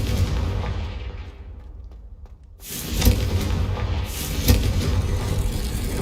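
A Confringo blasting spell goes off in the video game Hogwarts Legacy. A loud, booming explosion bursts in after a brief lull and rolls on with rumbling debris and crackle, over dense game ambience.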